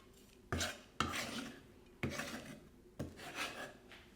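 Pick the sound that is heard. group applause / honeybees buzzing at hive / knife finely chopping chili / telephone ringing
knife finely chopping chili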